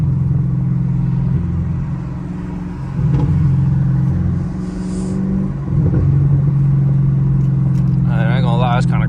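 A Camaro SS V8 exhaust drones steadily from inside the cabin on a night drive, swelling a couple of times with throttle, a loud continuous rumble; a brief chirp of other sound appears near the end.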